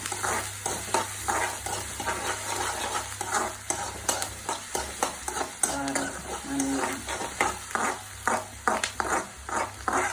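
Leafy greens are stirred in a hot pan, with a steady scraping and rustling of the utensil and a soft sizzle underneath, close and continuous with repeated stroke rhythms and no talk.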